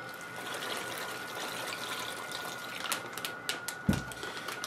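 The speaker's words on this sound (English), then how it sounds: "Put some water into it." Water is poured into a homemade square-bottomed plastic fish bag, a steady trickling fill with a few clattering handling sounds near the end.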